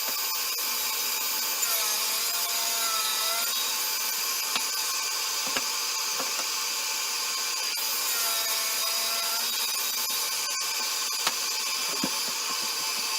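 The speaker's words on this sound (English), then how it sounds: "What I'm going to do here is go ahead and square it up using my table saw" A table saw with a sled squares up a maple end grain cutting board, a loud steady whining blade and a rough cutting rasp running throughout with small knocks, no voices.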